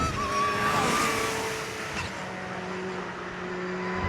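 A Porsche GT3 lapping a race track with a revving engine and brief tire squeal, close at first, then fading slightly as it pulls away.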